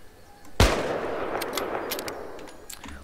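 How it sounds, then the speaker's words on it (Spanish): A single loud sniper rifle shot in a roleplay video game, a sharp crack followed by a long rolling echo that fades over a couple of seconds, with a few faint clicks after. "Vean, este es un francotirador."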